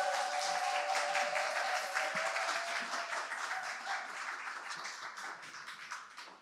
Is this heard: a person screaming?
no